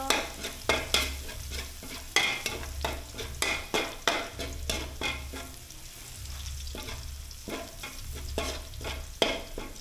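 Garlic frying in a pan as the base for kare-kare sauce, with close, steady sizzling broken by repeated scraping stirs of a utensil against the pan, and a low hum running underneath.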